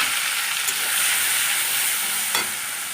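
Mustard paste and nigella seeds fry in a hot pan, giving a loud, dense sizzling hiss that stays steady throughout, with a short sharper crackle near the end and no talking.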